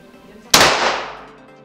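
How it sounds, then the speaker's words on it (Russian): A single sharp gunshot-like bang with a sudden attack and a long, fading echo trailing off. "Давай второй выстрел."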